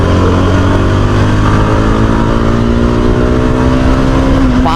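A Yezdi Adventure motorcycle engine revs hard at high RPM past 8000, a loud, steady buzzing drone close up that climbs sharply in pitch right at the end.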